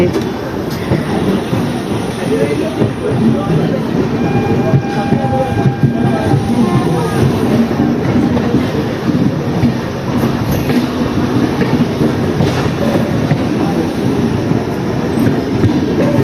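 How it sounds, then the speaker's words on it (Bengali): A passenger train to Parasnath station rolls steadily along the rails with a continuous rumbling drone and faint rhythmic clatter, close and loud throughout, with no clear voices. "আমাদের ট্রেন ছেড়ে দিয়েছে"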